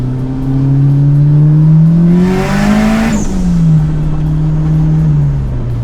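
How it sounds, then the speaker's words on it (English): A car engine revs up and eases back. A hissing turbo whoosh rises on top of it mid-rev, loud and close, with no talk. "Got a little bit of turbo noises."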